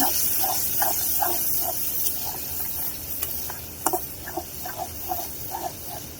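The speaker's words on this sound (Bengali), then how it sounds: "পেঁয়াজটাকে ভেজে নিব।" Onions frying in a pan for a vegetarian dish, a continuous hiss with a regular series of soft clicking stirs and a few sharper taps near the end.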